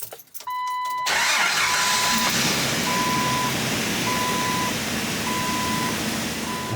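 A car engine with a smoking exhaust cranks briefly, catches and settles into a steady idle, with a repeating electronic beep chiming over the running engine.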